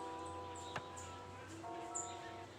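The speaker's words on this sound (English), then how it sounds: "You hear the birds?" Birds chirping in the early morning, a few faint thin calls and whistles in the distance over a quiet background hum, with no talking.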